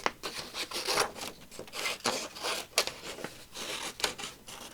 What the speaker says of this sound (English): So I need to fussy cut a couple of these.